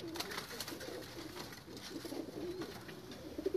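Pigeons in a loft coo in soft, repeated low murmurs, a steady rolling coo that carries on through the stretch alongside faint rustling and background chatter.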